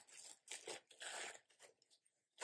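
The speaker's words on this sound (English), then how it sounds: "I'm gonna cut it open here." A gift-wrapped package is cut and torn open, giving a few quick ripping and crinkling bursts of paper close by and fairly quiet, with no talking.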